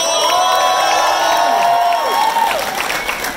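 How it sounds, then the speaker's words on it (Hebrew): A live audience applauds and cheers for a performer, with clapping and whoops over sustained musical tones that fade toward the end. "מחיאות כפיים לדניקו"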